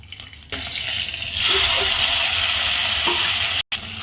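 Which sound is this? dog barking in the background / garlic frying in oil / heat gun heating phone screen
garlic frying in oil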